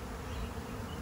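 A swarm of honey bees that settled under a hive's bottom board buzzes steadily and densely up close, a continuous loud hum with no voices.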